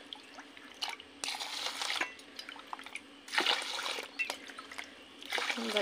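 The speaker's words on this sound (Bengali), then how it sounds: "চালটা ধুয়ে ভাতটা বসিয়ে দেবো" Rice is washed in water before cooking, with splashy swishes, drips and trickling bursts coming in uneven waves close by, fairly quiet overall.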